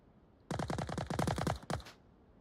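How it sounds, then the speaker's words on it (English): Rapid bursts of gunfire from a team-based video game match, a fast string of sharp repeated shots followed by a brief final pair, loud and close with no talking. "Spook's taking some pop shots."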